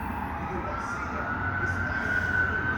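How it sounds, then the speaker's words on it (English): An ambulance siren passes nearby, a steady wailing tone rising slightly in pitch over a low traffic rumble, moderately loud throughout. "Pardon the noise, folks. It's an ambulance."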